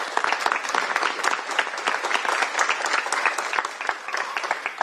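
Sustained applause from a sizable crowd at a press conference, dense steady clapping that continues for several seconds without letting up.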